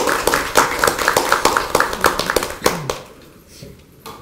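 Rhythmic unison applause from party members at a Bareunmirae Party supreme council meeting in Korea, with steady evenly spaced claps for about three seconds that then trail off into quiet room tone.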